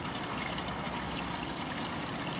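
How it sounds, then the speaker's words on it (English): Pumped water runs onto a gold concentrator mat in a steady, close trickling flow, moderately loud and unbroken, with no voices over it. "turn our pump back, valve back on, just get ourselves some water in on top of the mat,"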